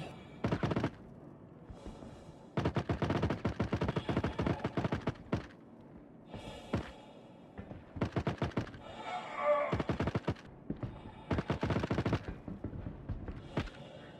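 Rapid Gatling gun bursts in the Star Citizen video game, firing in several loud, sustained volleys with short gaps between them, close and dry, with no talking over the shooting.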